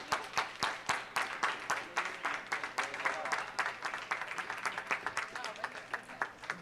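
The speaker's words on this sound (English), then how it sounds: "have a round of applause for all of our competitors today" Applause for the competitors at a cooking contest, many hands clapping steadily and fairly close for several seconds, with scattered sharp individual claps standing out.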